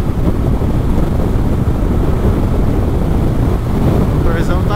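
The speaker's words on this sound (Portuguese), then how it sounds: "O motorzão tá vivo ainda." Onboard recording of a street-legal turbocharged Suzuki Hayabusa motorcycle running, a loud, constant low roar heavily mixed with wind buffeting over the microphone, steady throughout without distinct revs.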